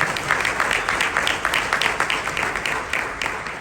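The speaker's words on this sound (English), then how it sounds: "Big round of applause again for Vanessa." Audience applause at a ULI Puerto Rico symposium in Miami, a dense steady wash of many hands clapping for the full few seconds, moderately loud and fairly close, with no talk over it.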